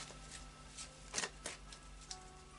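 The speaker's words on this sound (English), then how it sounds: "So I'm going to pop it back in, a little bit more of a shuffle." A deck of large tarot cards being shuffled, with a series of soft riffling flutters and light slaps, faint and close, and no talking.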